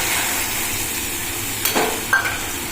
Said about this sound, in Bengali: এবার দিয়ে দেবো আমি গরম করে রাখার জল